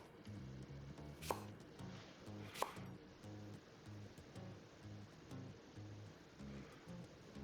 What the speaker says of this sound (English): Slice the green onion diagonally into thin pieces.